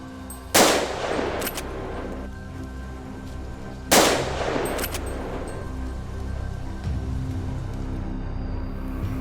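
Two loud gunshots ring out several seconds apart on a hillside during a wild boar hunt, each a sharp crack with a long echoing tail over quiet outdoor background.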